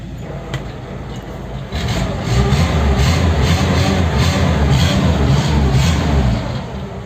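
A Willys Rural engine idles after a valve adjustment, a steady low mechanical drone that swells louder partway through and then eases back, with no voices over it.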